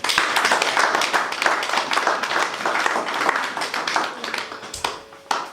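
A church congregation at a Pentecost Sunday service claps in acclamation, a dense, steady wash of many hands filling the room, with some voices mixed in before it thins near the end.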